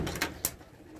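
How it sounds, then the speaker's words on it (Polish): Pigeons in a loft give a couple of soft, brief coos and wing rustles up close over quiet background. "Gołębie są wszystkie nakarmione."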